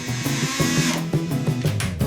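A power drill driving into the frame during an abandoned train car makeover, a loud, close whirring that pulses in short bursts of rising and falling pitch, with no talking.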